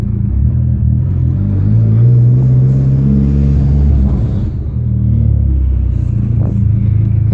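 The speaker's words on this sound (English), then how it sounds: "The higher RPM you're at in gear, the more popping you'll get from the car." A Dodge SRT-4 engine running under load, a loud, close, deep rumble that climbs in pitch and holds steady, dips briefly, then comes back. No distinct exhaust pops stand out, and nobody speaks.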